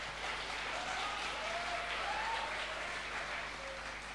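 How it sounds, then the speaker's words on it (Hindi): A studio audience at an Independence Day special with an actor claps in a dense, steady round of applause that runs the whole stretch, with a few faint whistle-like tones drifting through. "अच्छा, ताली बजा दीजिए"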